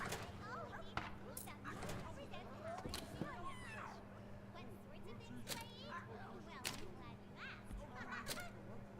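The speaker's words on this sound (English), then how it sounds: "That's quite a bird." Loud honking calls from a large bird in a medieval-styled first-person shooter game, several sharp cries over busy game noise and gunfire-like clicks, with a player talking throughout.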